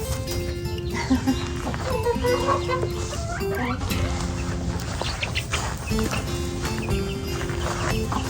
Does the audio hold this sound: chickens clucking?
yes